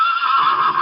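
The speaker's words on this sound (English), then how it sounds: "So this is what horse sounds like." A horse whinnies in one sustained, bright, wavering neigh of under a second, close and loud, with no other sounds around it.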